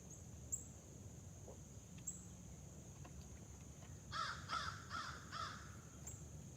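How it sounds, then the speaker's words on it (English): Crows caw outdoors in the morning, a quick series of four or five faint, distant calls over a quiet background of insect hiss. "Yeah, we hear you, birds."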